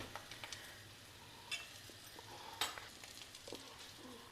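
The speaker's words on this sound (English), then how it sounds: "Occasionally just give it a stir so that it's evenly done on all sides" Baby potatoes roast in a pan and are stirred now and then, soft sizzling and scraping with a few louder utensil clicks, fairly quiet and close.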